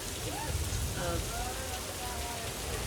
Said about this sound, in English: normally at this point in the tour, this is where they turn off the rain effects